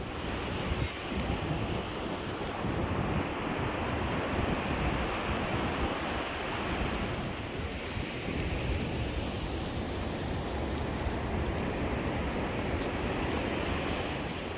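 Ocean surf rolling onto a beach where people walk collecting seashells and shark's teeth, a steady dense wash of breaking waves with no pauses, moderately loud and alone.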